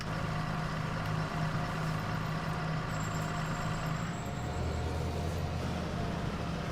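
John Deere 7810 tractor in Farming Simulator 19 driving on a road, a steady droning engine hum with low rumble, continuous and alone, shifting slightly in tone partway through.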